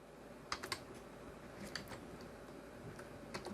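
Quiet typing on a computer keyboard, scattered key taps in short uneven bursts, soft and close with no voices.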